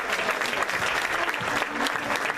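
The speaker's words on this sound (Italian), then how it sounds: "un bel applauso anche a Damiano" An audience at a Christmas concert claps for drummer Damiano, steady dense applause from a crowd filling the whole moment without pause.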